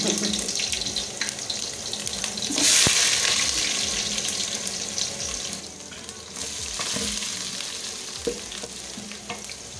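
Cooking oil sizzles and crackles steadily in a saucepan while making Ugandan matooke katogo, a dense continuous hiss with occasional pops and a louder surge partway through, no talking.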